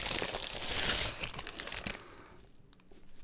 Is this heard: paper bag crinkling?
yes